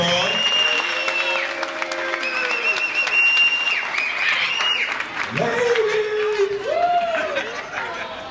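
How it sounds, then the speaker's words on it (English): An audience at a young men's conference applauds for the women present. Steady clapping fills the room, with voices and whoops rising over it. "So please give the ladies in the room a round of applause"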